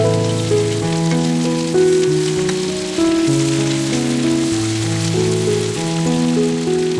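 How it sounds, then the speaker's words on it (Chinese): Shrimp and diced bell peppers sizzle steadily as they are stir-fried in a wok for Kung Pao shrimp, a soft continuous crackle sitting under louder background music throughout. "反复的煸炒。"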